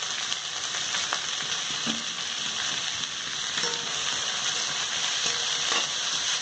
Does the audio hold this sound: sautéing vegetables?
yes